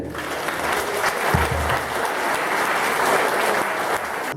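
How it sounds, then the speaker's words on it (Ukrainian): Crowd applause at a village day celebration in Yablunivka, honoring the village council head, a dense steady clapping from many hands that fills the whole stretch at close range. "Прошу аплодисментів."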